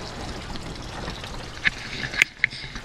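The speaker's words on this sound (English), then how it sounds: "So we go, pump is working." Hydroponic water pump feeding Dutch buckets, a steady low pump hum under trickling, splashing water flow, with a few sharper drips and splashes near the end.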